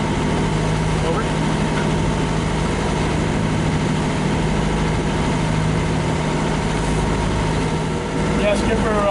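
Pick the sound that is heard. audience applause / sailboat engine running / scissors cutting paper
sailboat engine running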